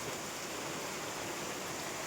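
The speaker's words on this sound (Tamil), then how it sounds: "இந்த மாதிரி மழை தாங்க வேணும்" Heavy rain pours down in a steady, dense hiss, constant and enveloping with no pauses, at moderate level and with no voices.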